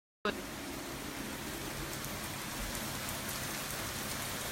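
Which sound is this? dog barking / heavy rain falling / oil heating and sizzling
heavy rain falling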